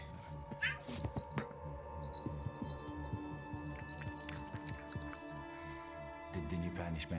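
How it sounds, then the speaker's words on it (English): Several cats meow again and again in a steady, insistent run of cries, mixed with talk and other background sound throughout. "The cats were meowing and meowing"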